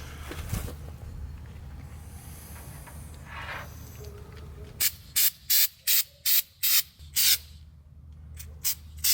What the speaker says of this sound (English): I'm going to spray it the other way because it sprays pretty far